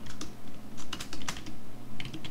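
Rapid typing on a computer keyboard while text is entered into a web form, with irregular bursts of close, crisp key clicks filling the whole stretch and no talk.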